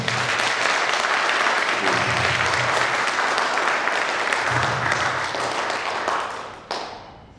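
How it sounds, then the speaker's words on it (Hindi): A crowd at a first-anniversary company celebration breaks into loud, continuous applause that holds for several seconds, then quickly thins out and fades near the end. "तो एक बार राजा भाई के लिए जोरदार ताली"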